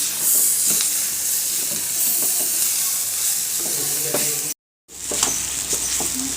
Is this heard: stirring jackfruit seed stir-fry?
yes